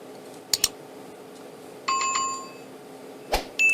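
A notification bell sound effect, bright metallic dings: a quick double ding, a sustained ringing chime in the middle, then two more sharp dings near the end, clear and close with no talking.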